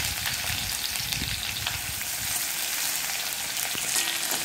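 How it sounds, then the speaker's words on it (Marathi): Garlic frying in hot oil for Sangli-style bhadang, a steady close sizzle with faint stirring clicks and no talk. "लसूण तळून घेऊया छान।"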